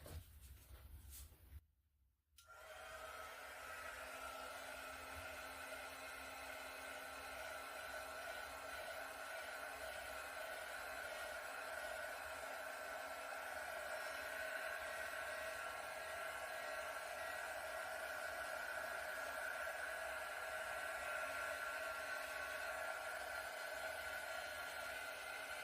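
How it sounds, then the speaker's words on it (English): A heat gun is blown over acrylic swipe paint on a canvas: a brief pause, then a continuous, even roaring whoosh with a steady humming tone that holds for over twenty seconds without speech. "let me hit this with a heat gun quick"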